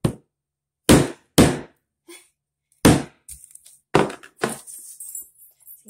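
Sharp cracking thunks sound as a hard block of sweet is struck and broken, several separate impacts spaced irregularly, loud and close with brief silences between them.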